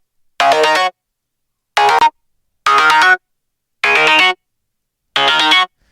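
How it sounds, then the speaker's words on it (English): Five short synth bursts in an electronic dance production, each a bright harmonic stab whose filter sweeps upward through the frequencies, evenly spaced with silent gaps, loud and alone. "It's frequency scanning."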